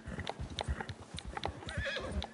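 A horse in Red Dead Redemption 2 gallops with a fast, steady rhythm of hoofbeats close up, and a neigh or whinny rises briefly near the end.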